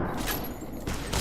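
Gunfire in Fallout: New Vegas, a brief burst of several rapid shots close and loud, with dense crackling reports over about a second.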